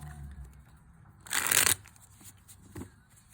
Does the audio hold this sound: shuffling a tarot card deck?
yes